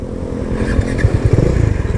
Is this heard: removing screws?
no